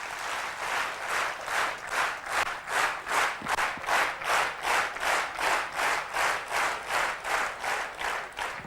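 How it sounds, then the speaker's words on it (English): Audience applause at a corporate induction program, a steady burst of many hands clapping in a loose rhythmic pulse, sustained and fairly loud throughout with no talk over it. "I'll just clap the same way you guys are clapping"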